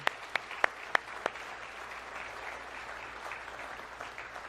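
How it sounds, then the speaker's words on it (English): An audience in a room applauds the mothers present, opening with a few sharp, separate claps before a softer, steady patter of clapping at a moderate distance. "would you give a hand to all the mothers in this room, please?"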